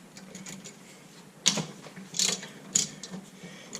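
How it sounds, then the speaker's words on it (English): A ratchet loosens the 14 mm top and bottom brake caliper bolts on a Camaro, giving three or four short clicking bursts close by against quiet background noise. "We've got our 14 millimeter caliper bolts, top and bottom, so we're going to take those loose."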